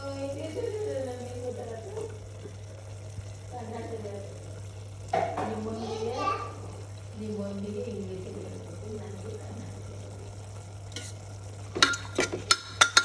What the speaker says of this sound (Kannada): ಆಮೇಲೆ ನಾನು ಬಟಾಣಿ ಮತ್ತು ಟೊಮೊಟೊ ಆ್ಯಡ್ ಮಾಡ್ತೀನಿ ಗೈಸ್